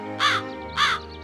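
Kalu the crow in a Hindi cartoon story gives two loud, harsh caws about half a second apart, close and clear against quiet.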